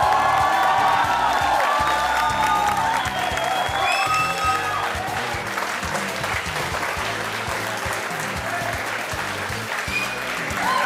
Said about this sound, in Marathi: आणि टाळ्या वाजतच राहू दे